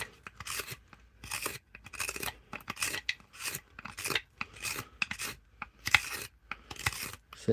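A wood gouge carves into an ash bowl, producing repeated rasping, scraping strokes in short irregular bursts separated by brief pauses, close and fairly quiet with no talk.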